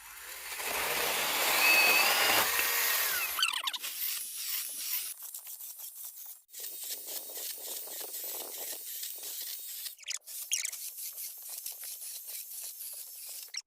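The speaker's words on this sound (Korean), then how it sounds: "제가 지금 이거 생나무 자르고 있는데 무시무시해요 진짜." A cheap 4-inch cordless one-handed chainsaw cuts through fresh green wood, starting with a loud hissing buzz of the chain, then continuing as rough intermittent grinding and rasping through the log.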